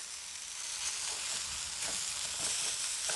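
Onions sizzle and fry steadily in a hot pan for samosa filling, a dense continuous hiss with faint scraping pulses from stirring, close and fairly loud with no talking.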